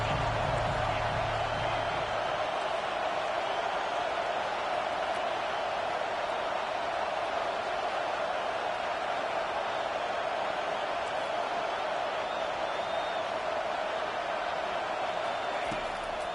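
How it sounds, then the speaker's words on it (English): Stadium crowd noise in a college football video game with the Sooners on defense, a steady broadband roar that holds throughout, with a low rumble fading in the first couple of seconds. "Big 3rd down as the crowd gets behind this defense."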